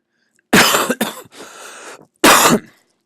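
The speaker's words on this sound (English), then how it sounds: "Oh my gosh, unexpected cough." Two loud, close coughs from one person, a sharp double burst followed by a short breathy tail and a pause, then a single harsh cough, with no talking around them.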